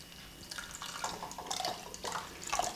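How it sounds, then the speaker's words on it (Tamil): Water poured from a half cup into a pot of moong dal sambar, soft splashing and trickling in a few quick bursts, faint and close with no talk. "நான் இப்போ ஒரு 1/2 கப் தண்ணி ஊற்றுறேன்."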